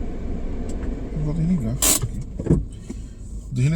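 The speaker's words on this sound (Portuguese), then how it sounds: "desligar o motor do carro, porque o semáforo é tão demorado que não adianta nem ficar com o motor ligado aqui" A car engine idles at a long traffic light, a steady low rumble that runs under continuous talk from inside the vehicle, with a brief sharper mechanical click or whir partway through.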